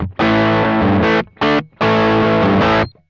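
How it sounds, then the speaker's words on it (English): Loud, gritty overdriven electric guitar chords on the bridge pickup through a Sonicake Sonicbar Twiggy Blues amp pedal ring out in three bursts with short gaps, the last chord held and then cut off. "that's the natural sound of the blues amp"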